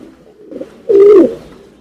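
A single deep pigeon coo rolls out loud and close over a low background murmur.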